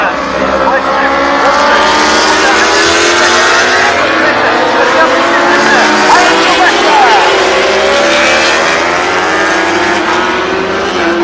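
Kawasaki superbikes race around Oulton Park in a British Superbike event, engines screaming loud and continuous with rising and falling pitch sweeps as machines pass, heard under a race commentator's voice.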